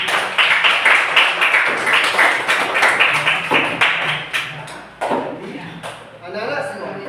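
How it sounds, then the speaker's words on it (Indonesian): A class of schoolchildren claps their hands together in a quick, steady rhythm, loud and close, before the beat breaks into a few scattered claps and fades out near the end. "Tepuk tangan untuk kita semua."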